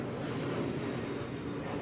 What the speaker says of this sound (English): hang on one second, we got a plane.